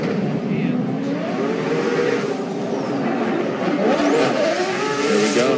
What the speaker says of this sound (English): Here comes the RX-8 of Kyle Mohan.